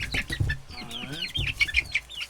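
Chickens being let loose into a new homestead coop cluck and squawk close by in a series of short, rapid calls over about two seconds.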